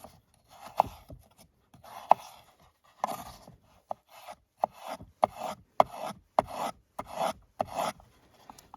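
A small Civivi Baby Banter pocket knife slicing through material in a series of short, rhythmic rasping strokes, close and fairly crisp, with brief pauses between cuts and no talking.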